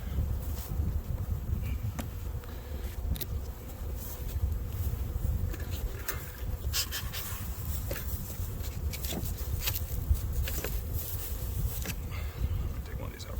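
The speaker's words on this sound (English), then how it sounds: "I got some bees in there." Honey bees buzz in a hive box during a late-February inspection, a low continuous hum with scattered sharper clicks and rustles of handling, fairly close and steady.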